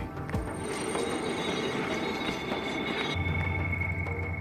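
A passenger train running on tracks in Sudan near the pyramids of Meroe, a steady rumbling roar with faint metallic squeals, heard continuously from on board.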